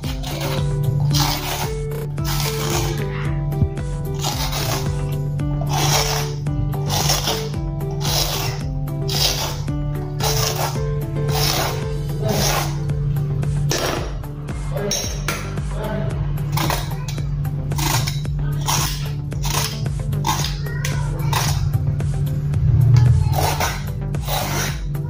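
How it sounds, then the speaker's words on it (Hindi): Ridge gourd (turai) being peeled by hand, making a close, rapid run of rasping strokes that repeat in a steady rhythm with brief pauses, over a constant low hum. "तुरई का हम छिलका निकाल देंगे।"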